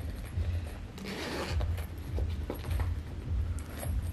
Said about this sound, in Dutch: Hier zit nog een rits in.